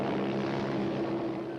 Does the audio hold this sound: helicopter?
yes